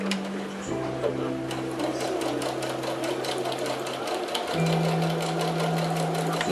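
A sewing machine runs steadily and close while backstitching the end of a seam on a fabric bowl holder, its motor hum shifting pitch as it reverses.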